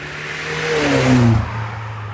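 A remapped BMW 520i accelerates hard, its engine note climbing in a smooth rising rev before easing off, loud and close from inside the car with no talk over it.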